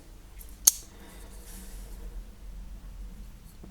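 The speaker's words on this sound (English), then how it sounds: "It's a recoil lock folder, so on the back of the knife you draw back the lock." Recoil lock being drawn back on a Sandrin Torino folding knife with a tungsten carbide blade, a single sharp metallic click followed by faint handling rustle in a quiet room.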